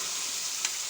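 Mung beans hitting golden-browned sautéed garlic in a hot pan, giving a loud, steady close sizzle with one brief sharper burst near the end.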